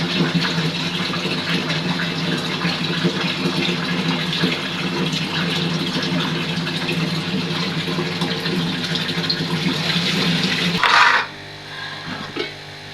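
Water runs and swishes steadily for about ten seconds as rice is washed, then stops with a clatter and quieter trickling.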